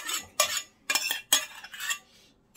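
Custard tart ingredients and butter mixed in a bowl: a handful of brisk scraping, clinking utensil strokes in short bursts with quiet gaps, nearby and without voices.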